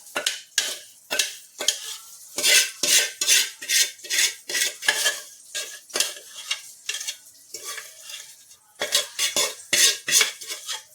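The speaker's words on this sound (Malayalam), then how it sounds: "ഒരു അരിപ്പയിൽ അരിച്ചെടുക്കണം" Homemade massage oil is worked through a metal sieve, giving repeated rhythmic scraping and clinking of a spoon against mesh and bowl, close and fairly loud, with short pauses between strokes.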